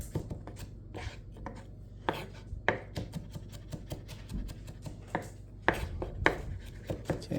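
A knife rapidly mincing onion and other food on a cutting board, with sharp, irregular chopping taps coming close and steady throughout, no voices.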